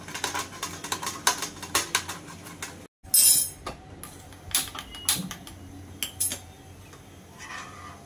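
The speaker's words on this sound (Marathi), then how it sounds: "हे मी किसणीवर किसून घेते" Almonds rubbed against a kitchen grater, producing a run of close, irregular scraping and rasping strokes with light metallic clinks and a brief pause partway through.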